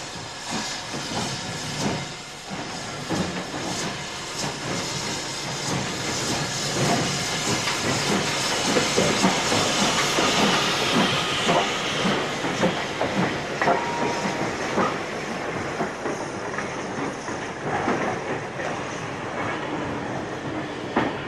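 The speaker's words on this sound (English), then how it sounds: "One of the Southern engines, 73050, is now named City of Peterborough, and is seen on a royal working on the Nene Valley Railway" Steam locomotive 73050 City of Peterborough working a royal train on the Nene Valley Railway, with loud chuffing exhaust, hissing steam and rolling wheel rumble passing close, then fading somewhat toward the end.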